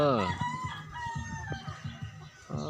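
A rooster crows loudly up close, a long rising-and-falling call, followed by a run of short clucks from a chicken nearby.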